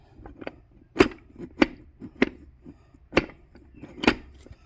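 TH400 automatic transmission part dropping into place during a rebuild, a series of sharp metallic thuds and knocks at irregular intervals, close and moderately loud.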